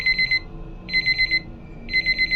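A phone timer alarm beeps in three bursts of rapid, shrill, evenly spaced pulses, loud and close with a quiet background.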